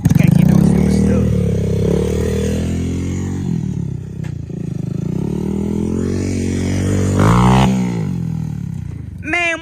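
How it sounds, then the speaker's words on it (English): A motorcycle engine at a race track is revved and blipped in sharp rising and falling bursts, loud and close, with a final quick high rev at the end; a voice speaks briefly. "why you blipping the throttle like a goon?"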